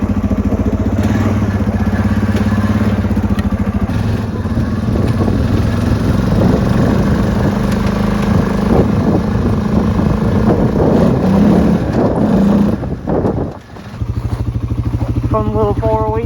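A Suzuki Vinson 500 ATV idles close by on a cold day while it warms up, a steady, loud four-stroke chug that runs throughout and briefly dips near the end. A person talks over the engine.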